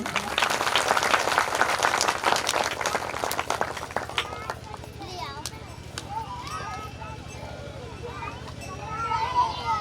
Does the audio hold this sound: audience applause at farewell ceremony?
yes